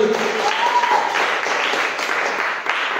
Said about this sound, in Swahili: Mpigie Yesu makofi jamani